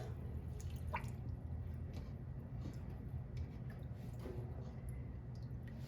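Beans being rinsed and stirred for home canning give off faint, scattered drips and small wet squishes over a low background hum, close by with no talking.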